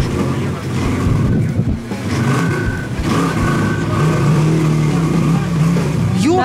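A buggy engine revs hard at full throttle while the buggy is stuck in a ditch, a loud, sustained roar with rising and falling pitch up close and voices mixed in.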